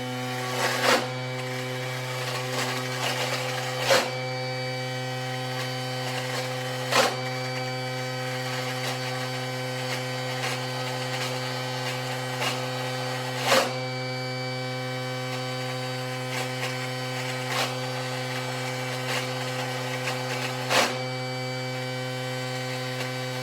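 A Thermomix chops Thai green curry paste ingredients with a steady motor drone, broken every few seconds by sharp thuds as the blades knock food about.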